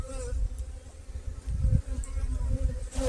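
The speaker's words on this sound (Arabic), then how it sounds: "ها هنا الغذاية كما تشاهدون، النحل يعني يصعد للغذاية" Honeybees crawl up inside a hive toward a feeder, a continuous close buzzing drone that swells and fades irregularly, loud and alone without speech.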